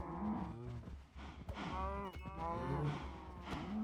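Cows in the Minecraft video game moo repeatedly in low, drawn-out calls that overlap one another, loud and close, with game background sound underneath.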